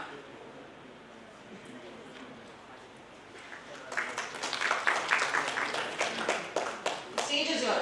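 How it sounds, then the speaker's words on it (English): Conference audience at a social work conclave breaks into applause for a visiting representative: a quiet murmuring room, then clapping swells in at about four seconds and continues fairly loud. "A huge round of applause for the Admissify representative who will introduce himself."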